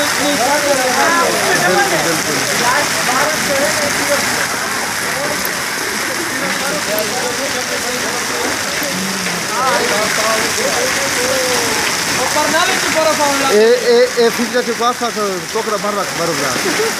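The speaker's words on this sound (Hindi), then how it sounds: "इस तरह की बारिश पहले नहीं हुई है" Heavy rain pours down in Bannu in a constant dense hiss, with voices faintly heard underneath.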